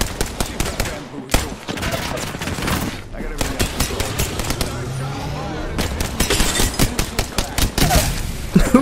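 Steady gunfire in the battle-royale game Apex Legends, with fast bursts and single sharp cracks going on almost without pause, loud and close. Talk runs underneath now and then.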